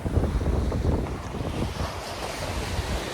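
Early-morning beach with waves washing in and wind buffeting the microphone, a loud, continuous rumbling roar close by with no voices.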